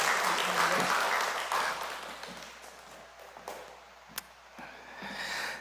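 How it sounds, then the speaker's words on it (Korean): Church congregation applauding during a Sunday service, a dense burst of clapping that fades over a few seconds into scattered claps and room noise, with a faint voice beneath. "다시 한번 박수로 우리 축복해 주시기 바랍니다."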